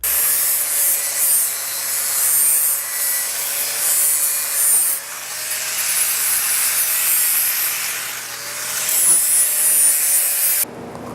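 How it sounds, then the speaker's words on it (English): Abrasive grinder working a freshly cast bronze closed chock, smoothing the outside to fit a ring; a steady, harsh high hiss of grinding runs continuously and fairly loud for about ten seconds, then stops abruptly. "I've grinded the outside until the ring almost fits"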